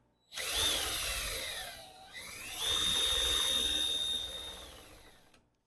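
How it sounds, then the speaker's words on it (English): A cordless drill with a 3/4 inch socket spins the magneto of a 1951 Gravely Model L tractor at full speed, a close, high whirring run that dips briefly midway, spins up again and winds down, with no talking. "I'm just going to take a 3/4 inch socket and my cordless drill, and we're going to check it at full speed"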